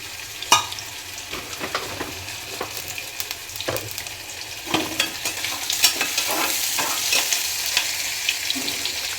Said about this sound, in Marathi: तर आता फ्रायसाठी इकडं कढई ठेवली गरम करायला. तर तेल ओतूया.